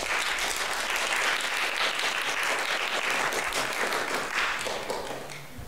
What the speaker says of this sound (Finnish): Annetaan vielä aplodit kaikille.